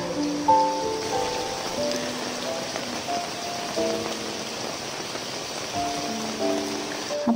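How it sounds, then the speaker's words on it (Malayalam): Heavy rain during a windy monsoon spell, a steady hiss of drops on surfaces, with faint tonal sounds threaded through it and no talk. "ഇവിടെ നല്ല മഴയാണ്. രണ്ട് ദിവസമായിട്ട് നല്ല കാറ്റും മഴയുണ്ട്."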